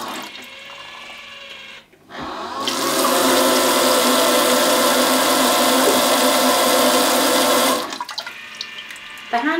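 A Geberit AquaClean shower toilet runs its washing cycle from the handset. After a soft click, a loud steady rush of water and pump noise holds for about six seconds, then cuts off sharply, leaving quiet room sound.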